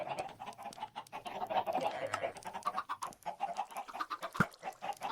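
A Minecraft chicken clucks and squawks in a steady stream of short, fairly quiet calls, with a sharper cry near the end.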